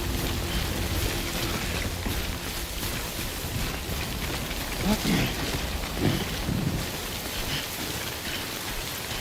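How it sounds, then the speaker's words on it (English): Steady rainfall in a video game, a dense even patter across the whole stretch with a few brief low thuds in the middle and faint speech mixed in. "Anywhere the rain will stop falling on me."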